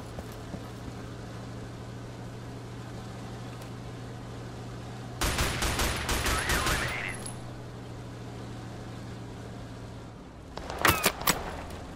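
A burst of gunfire in the video game Total Conflict Resistance crackles out for about two seconds over a steady low hum, followed later by a second short, louder volley, with no voices.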